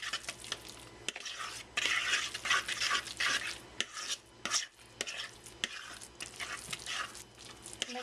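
Lasagna filling with minced garlic and garlic powder being stirred in a bowl: close, repeated scraping and soft squelching strokes in uneven bursts, with faint clinks of the utensil against the dish.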